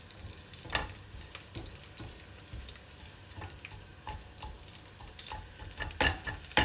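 Chopped garlic sizzles softly in hot oil in a home kitchen, a quiet steady crackle broken by occasional clicks and scrapes of stirring.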